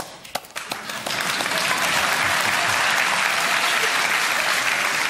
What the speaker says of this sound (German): Ein gendermäßiger, aufmunternder Applaus,